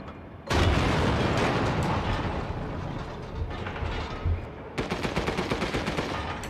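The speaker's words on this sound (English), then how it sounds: "Machine gun." Sustained machine-gun fire in Resident Evil Village rattles loud and dense for about four seconds, then gives way to a second run of distinct, rapid rounds.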